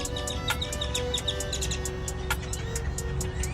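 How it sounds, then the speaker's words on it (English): Many birds in Texas chirp and tweet in dense, overlapping bursts, with sharp repeated calls standing out over a steady background chatter of the flock. "Have you guys seen this many birds in your life?"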